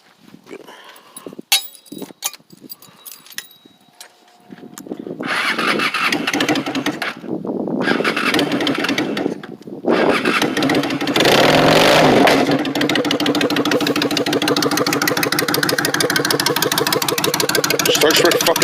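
A Honda Shadow bobber motorcycle engine turns over and starts, then settles into a loud, steady idle with a burst of revving, after a few seconds of scattered clicks and handling noises.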